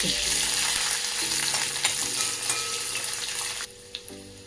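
Chopped garlic sizzles in hot tempering oil with mustard seeds for a tomato chutney, a close, loud, hissing fry with scattered pops that suddenly drops away near the end, leaving a quieter sizzle.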